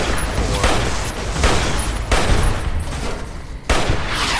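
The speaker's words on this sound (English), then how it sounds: "that guy's shooting rockets!" Rockets fired by an enemy in Fallout: New Vegas, loud booming blasts and heavy gunfire in several bursts, close and dense, with short gaps between volleys and no talk over them.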